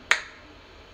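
A single crisp finger snap, sharp and close, standing alone with a short fading tail in an otherwise quiet room.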